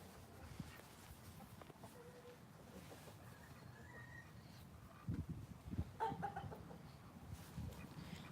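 Chickens cluck softly over a steady outdoor hum, with a rooster's call and a few louder clucks rising near the end.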